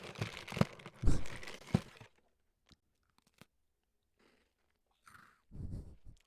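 Stale three-week-old packaged snack crunched close to the mic, a burst of loud bites and chewing crunches up front, then sparse small crinkles and clicks before two more short crunchy chews near the end.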